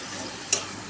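Cleaned, cut chicken being stirred and fried in a pan, a close steady sizzle with a couple of sharp scraping stir strokes.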